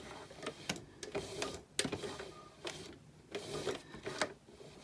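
Sewing machine taking the first stitches of a contour dart by hand wheel, giving several separate sharp clicks and short mechanical bursts spread irregularly across the clip. No one speaks.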